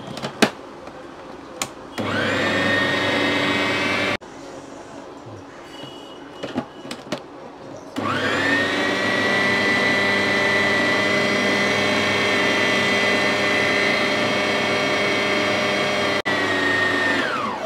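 An electric chopper grinds cooked puran, a sweet lentil filling, in two loud sustained bursts of steady motor whine, a short one early and a longer one of about eight seconds, with brief quieter handling sounds between them.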